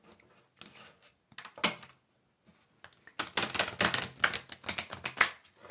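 A deck of oracle cards being cut and handled, giving sparse crisp taps and riffling clicks, then a denser flurry of quick snapping card sounds. No one speaks.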